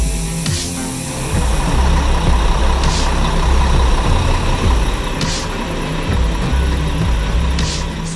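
A diesel bus engine idles at a stop, giving a steady, loud low rumble with a constant drone and a few faint hissing bursts, likely from the air brake system.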